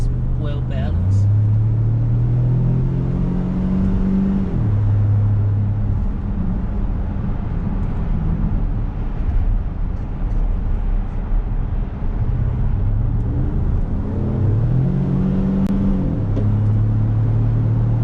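A 2018 Ford F150 pickup truck driving with a deep, loud engine and exhaust rumble heard from inside the cab, rising and falling through gear changes as it accelerates.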